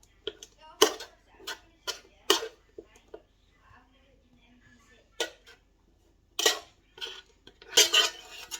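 A spoon clinks and taps against dishes and a bowl while sticky dough is handled in a home kitchen, with irregular bright clatters in bursts separated by quiet gaps, close up.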